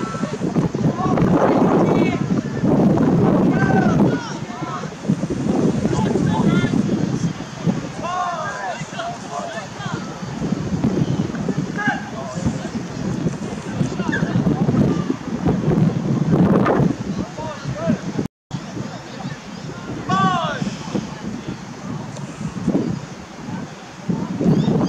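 Wind gusts across an outdoor under-14 rugby field, a steady low rumble buffeting the microphone beneath near continuous commentary and shouting from people nearby.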